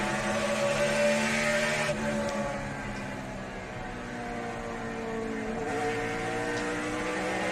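A NASCAR Sprint Cup stock car roars at Bristol Motor Speedway in the 2008 Food City 500, its engine rising and falling as the throttle is worked into a corner, loud and continuous throughout.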